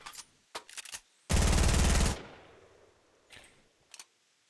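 A rapid burst of automatic gunfire in Fortnite, fired at a metal wall. The burst runs for about a second and is framed by scattered single shots and short clicks.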